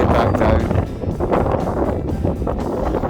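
Strong wind buffets the microphone on the exposed Ben Wyvis ridge near Inverness on an overcast day. It roars steadily and loud throughout, in broadband gusts with no voices.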